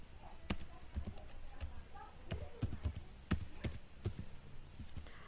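Keys clatter on a computer keyboard as a command is typed into a Debian server setup. The key presses are sharp and irregular, with clustered taps and short pauses, close and moderately loud, with faint speech in the background.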